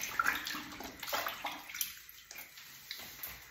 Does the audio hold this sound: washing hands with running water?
yes